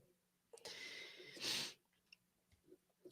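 A single sneeze during a gaming live stream: a short breathy intake followed by a sharp, hissing burst, fairly faint and close, then quiet room noise.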